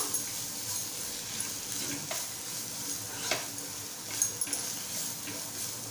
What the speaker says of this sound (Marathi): पाव चमचा गरम मसाला टाकूया आणि मिक्स करून घेऊया।